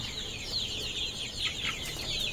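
Country chickens, chicks and a rooster clucking and chirping steadily together, fairly close, with a busy farmyard background and no talking.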